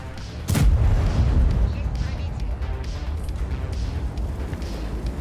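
Artillery fire in the World of Tanks video game: one sharp booming shot near the start, followed by a continuous low rumbling battle bed with someone talking over it.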